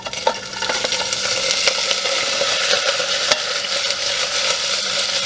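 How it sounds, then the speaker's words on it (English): Beef sizzles and crackles steadily in a hot pot, a constant loud hiss with small pops throughout and no voices. "When it sizzles a lot, it means you're winning."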